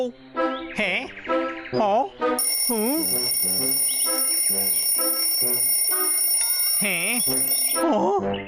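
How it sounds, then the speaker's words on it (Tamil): Cartoon alarm clock ringing in a Tamil animated comedy: a shrill, continuous electronic bell rings loudly for several seconds while exaggerated, warbling cartoon voices squeal and talk over it. "இந்த அலாரம் கட்டையில போக"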